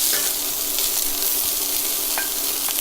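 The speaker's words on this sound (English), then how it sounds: "saute the onions for about 5 to 8 minutes till they're nice and translucent and just turn brown" Finely chopped onions sauté in hot oil with toasted whole spices for chana masala, a steady close-up sizzle with a couple of faint clinks and no one speaking.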